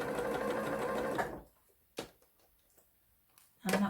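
Close, steady whir of a sewing machine stitching a quarter-inch seam along fabric for just over a second, then near-silence broken by a couple of faint clicks and handling noises.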